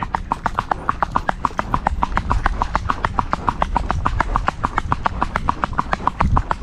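Hooves of a Soviet-breed horse, ridden with a double rein, clip-clop in a steady, quick, even rhythm, loud and close throughout, with no other sound rising above the beat.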